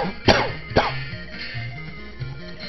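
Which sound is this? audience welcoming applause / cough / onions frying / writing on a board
cough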